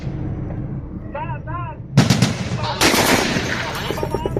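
Video game gunfire: heavy shots and bursts of automatic fire crack loudly over a constant rumbling background, with short tonal effects in between.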